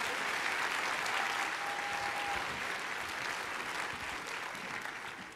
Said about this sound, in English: let's hear one more round of applause for both of our warm-up acts this evening